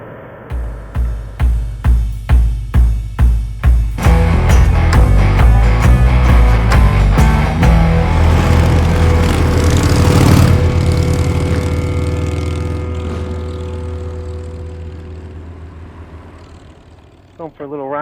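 A Victory motorcycle engine starts with a series of rhythmic revs, then settles into a loud, sustained roar as the bike pulls away on a ride and gradually fades slightly.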